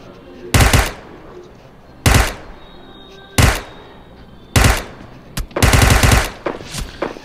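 Automatic gunfire in a PUBG Mobile match comes in five loud, sharp bursts of rapid shots, each about half a second long, separated by quieter stretches of low game ambience.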